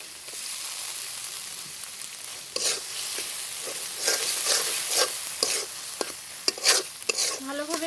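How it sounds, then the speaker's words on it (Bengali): Ground peanut paste is stirred into a spice paste frying in oil, giving a soft sizzle under bursts of scraping spoon strokes that grow busier and louder partway through, close up and with no talking. "ভালোভাবে মিশিয়ে নিব।"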